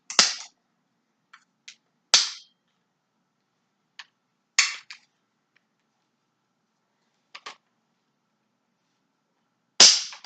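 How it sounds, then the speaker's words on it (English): Upper and lower receivers of a rifle pinned back together, a few sharp metallic clicks and snaps spread apart with near silence between them, close and loud, no talk. "Put the upper receiver, lower receiver back together, push the pins in."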